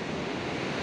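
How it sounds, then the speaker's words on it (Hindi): The Kali river rushes fast through a steep mountain gorge, producing a dense, steady roar of turbulent water that fills the whole short stretch without a break. "नदी बहुत ही तेज़ बहाव में तेज़ वेग में अभी बह रही है"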